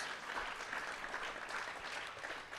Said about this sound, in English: Big round of applause to everybody, please.